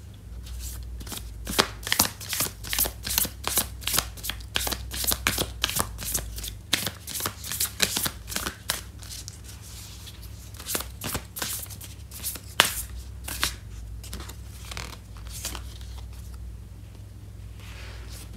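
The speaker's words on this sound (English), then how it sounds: "I'm going to pull out an oracle card for you" Oracle cards are shuffled by hand during a tarot reading, a rapid run of crisp riffling slaps in uneven bursts, close and clear, over a low steady background hum, with no talk.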